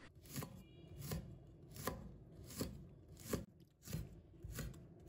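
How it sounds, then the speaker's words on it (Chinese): Knife chopping small chili peppers into rings on a cutting board, a series of crisp, distinct close chops at an even, unhurried rhythm, about seven strikes with no talking. "跟着再准备几个小米椒，把它头切掉不要，再切成小圈"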